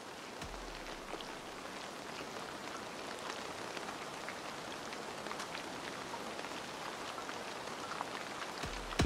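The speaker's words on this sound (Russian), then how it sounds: "Дождь накрывает землю" Steady rain falls on the ground, a dense even patter of drops with a few sharper taps standing out, constant throughout and free of voices.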